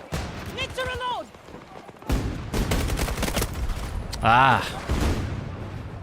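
Gunfire from the AM40 rifle in the shooter game Battlefield 2042, loud, dense bursts cutting in over a short spoken exclamation, with pauses between volleys and a steady battle din beneath.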